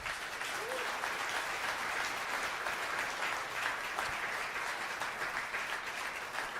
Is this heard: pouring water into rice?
no